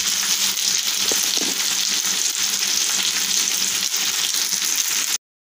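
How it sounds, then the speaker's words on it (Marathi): Fish coated in rava and rice flour fries on a tawa over medium gas, giving a loud, dense, unbroken sizzle that fills almost the whole stretch before cutting off abruptly into silence, with no talk. "आपल्याला मीडियम गॅसवर फिश फ्राई करून घ्यायची आहे"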